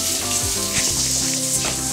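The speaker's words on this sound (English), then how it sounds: "So, we just want the onions to go translucent. I'm just going to put a little bit of oil in there." Onions frying in oil in a pan for a student pesto risotto, giving a steady, dense sizzle with crackling and a few soft stirring scrapes throughout, no voices.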